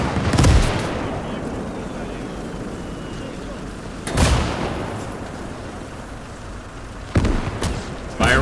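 Gunfire from Call to Arms: Gates of Hell, a multiplayer battle defending a road: a few loud, sharp shots or blasts stand out at intervals over a steady rumbling battlefield background, with talk over the top.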